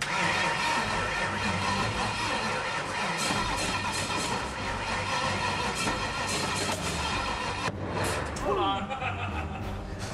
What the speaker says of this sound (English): ES Motorsports is also ready to fire up their engine